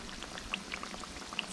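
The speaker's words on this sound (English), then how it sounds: "Make sure you got a good little sizzle, but you know, it's, you don't want it burning." Homemade fried pies sizzle steadily in hot oil, a dense continuous crackle with scattered small pops, fairly quiet and with no voices.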